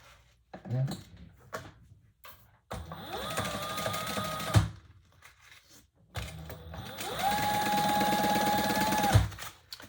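A sewing machine stitches the sides of a Colette Bowler bag closed in two long, steady runs of close, loud mechanical whirring, with brief pauses and clicks between them.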